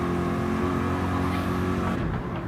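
A race car engine drones loud and steady at high revs on an onboard lap of a wet Tsukuba circuit in a racing game, holding its pitch with no break.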